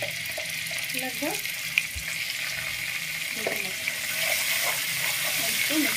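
Ginger garlic paste fries in oil for dal makhani, giving a soft continuous sizzle with scattered light scraping and stirring sounds, while someone speaks briefly.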